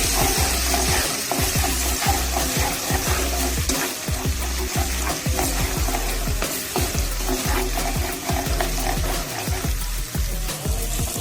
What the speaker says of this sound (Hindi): अदरक लहसुन के पेस्ट को हम अच्छी तरह ब्राउन करेंगे।